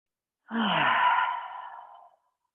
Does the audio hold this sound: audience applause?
no